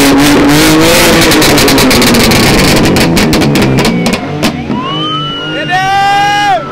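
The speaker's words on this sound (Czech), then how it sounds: "A všechny auto začaly prostě turovat" BMW cars at the Most racetrack revving their engines loudly and close by, with sharp rapid throttle blips in a dense cluster, then rising tones as engines climb through the revs.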